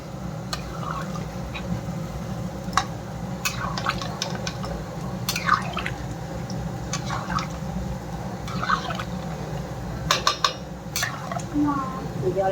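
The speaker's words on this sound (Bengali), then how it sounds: "আলু বেগুনটা কষা হয়ে গিয়েছে, এখন দিয়ে দিচ্ছি জল।" Water poured into a pot of potato and eggplant fish curry (begun mach er jhol), a steady pour with light clinks of pan and utensil over a low kitchen hum.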